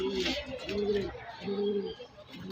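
Pigeons of a large Gopalganj breed coo in repeated low, throaty phrases, close by and fairly loud, with a faint background murmur.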